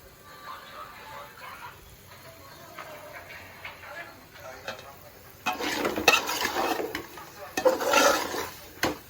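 Coriander and chili powder are stirred into a pan for a Kerala chicken curry, starting with a faint sizzle and soft scraping before louder, clattering bursts of stirring near the end, with a voice heard briefly.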